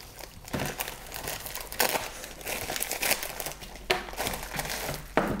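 A plastic parcel from an online order being torn open: close, crisp crinkling and crackling of the plastic bag with several sharper rips and rustles throughout, no talking.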